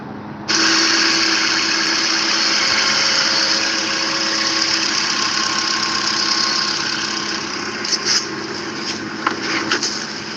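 A rebuilt Camaro Z28 engine with a roller cam starts up and idles, holding a loud, steady rumbling drone with faint mechanical ticking toward the end.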